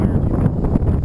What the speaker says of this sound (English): Very windy today and a very weird temperature.